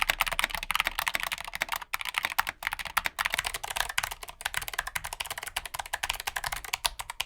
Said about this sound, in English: It actually sounds and feels like the big gaming brand keyboards, like Steel Series or Razer or stuff like that.